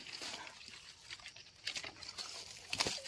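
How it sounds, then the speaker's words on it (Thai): Light rain patters in a forest during a mushroom-foraging walk, faint irregular drips and taps with a few louder bursts against quiet background, no speech heard. "ฝนลิน"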